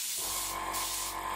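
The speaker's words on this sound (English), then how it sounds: "just going to spray through until we're getting a good pattern" Airbrush spraying paint onto a Lightning jet scale model, a soft steady hiss of air and paint starting abruptly and continuing at low volume, close up.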